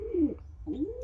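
A pet pigeon coos twice in a loft, two soft low throaty swelling calls separated by a short pause, close and clear with no talking.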